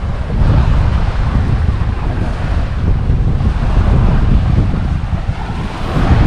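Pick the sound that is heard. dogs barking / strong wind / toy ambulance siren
strong wind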